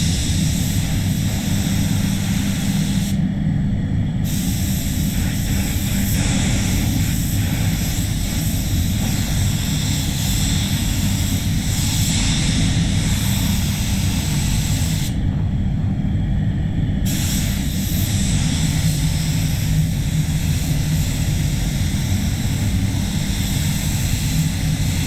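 Continuous hiss of a spray gun laying clear coat on an Isuzu D-Max bonnet at reduced pressure of about 34 psi, steady and fairly loud with two short breaks between passes.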